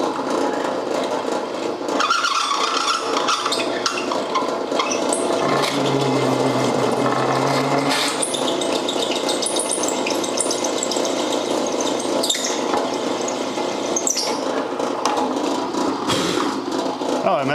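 A drill press whirs steadily and loudly with grinding, rattling mechanical noise, running continuously throughout.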